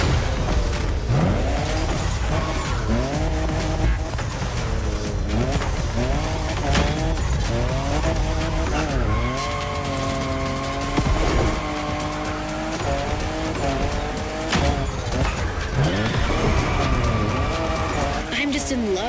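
A fifth-generation Toyota Supra drifts in The Crew Motorfest, engine revving up and down in repeated climbing sweeps while the tires squeal in long sustained howls, loud and close, with a voice talking over parts of it.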